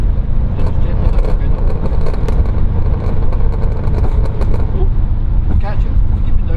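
A Subaru WRX with ignition-retard antilag pops and crackles loudly through its exhaust in a rapid, irregular burst over a rough engine drone, up close and continuous for several seconds.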